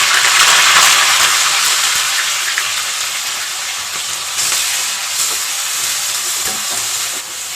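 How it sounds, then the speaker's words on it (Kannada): Ground onion paste sizzling as it fries in a pan for an Indian sambar gravy, a loud, steady hiss that lasts throughout with a few faint stirring knocks and no talk. "ಈರುಳ್ಳಿನ ರುಬ್ಬಿಟ್ಕೊಂಡಿದ್ವಲ್ಲ, ಈರುಳ್ಳಿನೂ ಆ್ಯಡ್ ಮಾಡ್ಕೊಳ್ತೀನಿ"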